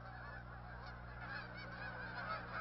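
Migrating geese honk at Blackwater National Wildlife Refuge in Maryland, a faint, continuous chorus of many overlapping calls from a flock, steady and fairly distant without any voices.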